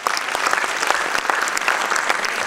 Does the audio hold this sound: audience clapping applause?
yes